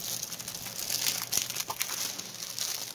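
Plastic packaging bag of a diamond painting kit crinkling and rustling close by, a continuous irregular crackle lasting a few seconds with no talk over it.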